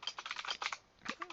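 Quick, quiet clatter of keystrokes on a cheap computer keyboard, a short run of taps, a brief pause, then a few more keys pressed close by.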